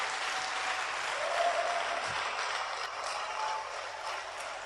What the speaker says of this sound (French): Stand and clap for the Lord.